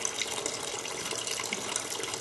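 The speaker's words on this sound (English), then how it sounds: "The water is running much faster because there's twice as many holes." Water streams steadily through many small holes in a homemade science project container, a soft continuous trickle and patter at low level.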